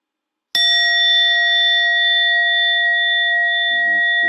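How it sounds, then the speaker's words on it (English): A single meditation bell struck once at a mindfulness session rings out loud and clear, then sustains a long, pure, slowly fading tone in an otherwise quiet room. "That's the sound of the bell."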